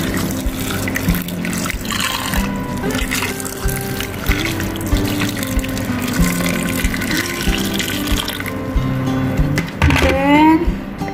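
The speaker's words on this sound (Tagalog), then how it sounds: "Lagyan natin siya ng mainit na tubig." Hot water pours from a tap over frozen tomatoes in a kitchen sink or bowl, a continuous splashing gush running throughout, with some background sounds and a rising filling tone near the end.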